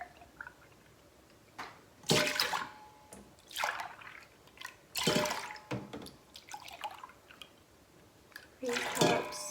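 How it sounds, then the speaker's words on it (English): Milk is poured into yogurt and stirred in, giving close liquid splashes and sloshing in several separate bursts, moderately quiet, with some faint background noise. "I'm going to add my milk. And as I add, or after I add my milk, I will stir it up"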